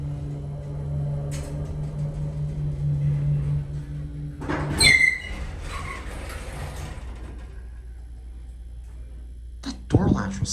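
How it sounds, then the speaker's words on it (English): Otis hydraulic elevator with a loud mechanical clack and scrape of the door latch partway through, over a steady low machine hum, with a second sharp clunk near the end. "That door latch was so loud."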